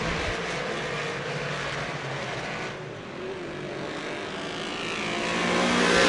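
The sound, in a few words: modified race cars racing around oval track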